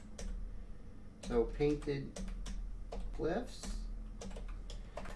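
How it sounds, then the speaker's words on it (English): Typing an email address on a computer keyboard: a few short bursts of clicky keystrokes close by, with someone speaking between them. "I'm gonna type in the comments here my email address"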